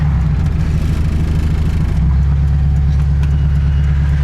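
A loud, steady low engine rumble from an old Volkswagen Beetle while driving, droning continuously throughout with no voices.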